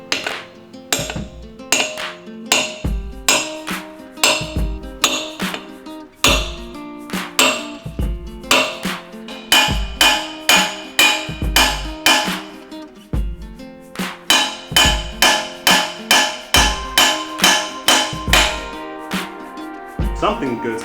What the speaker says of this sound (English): allows us to hammer back here, shooting the blade through the bat